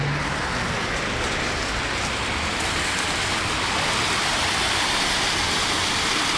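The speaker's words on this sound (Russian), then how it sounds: "Да, я такого дождя давно не помню." Heavy rain pours down in a dense, steady broadband roar, loud and close throughout with no break, like a downpour drumming on surfaces outdoors.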